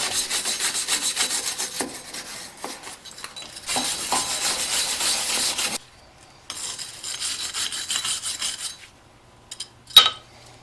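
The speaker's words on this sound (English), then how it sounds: "I'm going to clean it with a wire brush and some brake cleaner" A wire brush scrubs a Mazda 3 front brake part in rhythmic rasping strokes, close and fairly loud, in several long bouts separated by brief pauses and ending with a sharp scrape.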